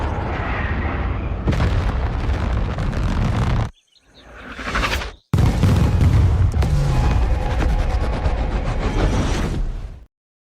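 A film bomb dropped from a Reaper drone bursts in deep, loud booming blasts with a rumbling roar, broken by a short quiet gap and a rising whoosh before the explosion resumes.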